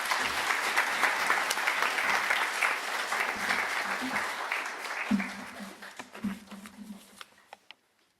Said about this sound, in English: Let's give these new Beta Club members a round of applause.